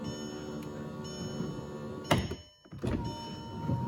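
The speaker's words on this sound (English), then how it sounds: "can hear the window going up and down" A Volkswagen Mk4 power window motor whirs steadily with a tonal whine, broken by a couple of thuds and a brief pause, the glass detached from its regulator as the window runs up and down.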